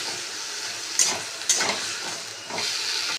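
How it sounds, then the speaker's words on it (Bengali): Turmeric and spices, with dried red chillies, bay leaf, green chilli and ginger, sizzle steadily in a hot pan, the hiss swelling in short bursts as the mix is stirred. "হলুদটা একটু ভাজা ভাজা করে নিচ্ছি"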